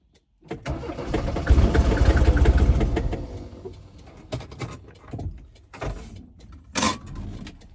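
An old Mercedes engine cranking with a rough, loud churning that fades to sputters and a few brief bursts and clicks, ending without a steady idle.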